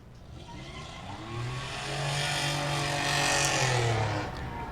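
A race car at Claremont Motorsports Park takes its checkered flag lap, a steady engine drone rising in pitch and swelling louder as it passes near, then easing off.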